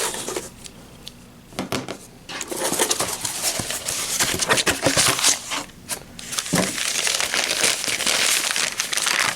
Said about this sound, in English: I'll just do a couple of snips